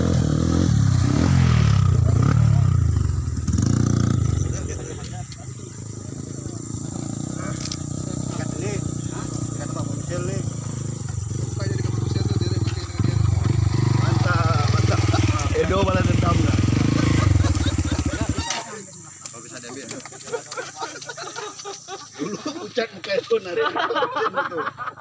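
A motorcycle rides close behind on a trail ride, its engine droning and rising over rough ground with clattering, while people talk over it; the engine cuts away near the end, leaving quieter scraping and insect-like chirring.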